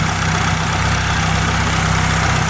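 A Honda Civic's D16Z6 turbo engine idles steadily with a low, even throb and a faint hum above it, close by and continuous, with no voices.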